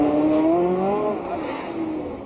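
A Matra Formula 2 race car driven by Johnny Servoz-Gavin at the 1967 Monaco Grand Prix, its engine drone rising and falling steadily as it returns to the pit, fairly close and continuous.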